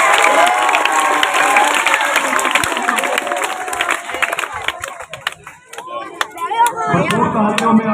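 Applause and cheering from a crowd at a school prize distribution ceremony, loud and dense at first, then thinning into scattered claps and chatter with children's voices near the end.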